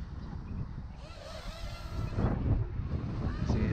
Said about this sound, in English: so it's fighting with the wind.